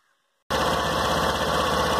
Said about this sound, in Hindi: अब मैं आपको इसका जो एग्जॉस्ट नोट है वो भी सुनाता हूँ